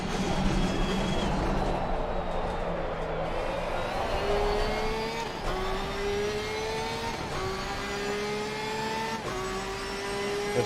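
A high-revving race car engine in Assetto Corsa Competizione at Kyalami winds up steadily, and its pitch drops briefly at each of several rhythmic gear changes. The engine stays loud and close throughout, with no talk over it.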